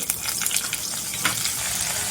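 Loud hiss and crackle as chopped flat beans (ghevda) hit hot oil tempering, a burst of sizzling with scattered pops over a couple of seconds.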